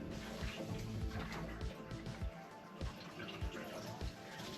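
Hot water runs through the newly installed water heater of a tiny house, a steady rushing flow with knocks and clunks in the plumbing, heard close under a voice speaking.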